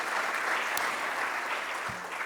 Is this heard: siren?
no